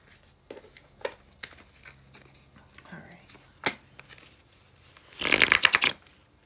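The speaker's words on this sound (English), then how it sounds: "Let me pull some other cards from here" Tarot cards are handled and drawn with soft quiet slides and taps, then a loud burst of riffle shuffling near the end, close up, with a low voice barely heard now and then.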